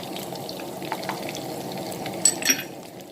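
Chili, garlic and shrimp paste being stir-fried in a pan for a Thai dish, a steady low sizzle with a few soft scrapes and light clinks near the end, no talk.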